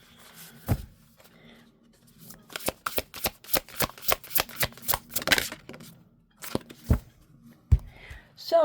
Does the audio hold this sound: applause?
no